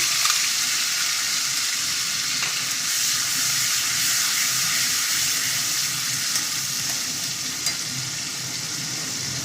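Grated ginger and grated tomato sizzle in a pan with fried spices for aloo kofta, a steady, loud, bright hiss running unbroken throughout with faint stirring underneath.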